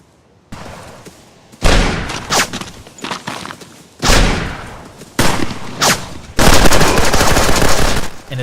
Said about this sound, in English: Hearing gunshots and footsteps from other players will be vital for survival.